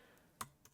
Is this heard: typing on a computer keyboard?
yes